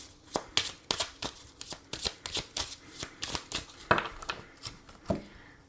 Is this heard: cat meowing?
no